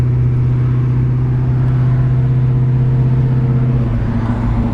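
A 1972 Chevrolet Malibu convertible's engine drones steadily while driving, a low, continuous rumble held at an even pitch throughout with no voices.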